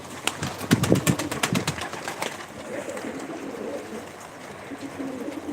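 Pigeons in a loft, white tumbler-type birds of one bloodline, give off a busy burst of calls and wing flutters near the start, then settle into low, softer cooing and rustling.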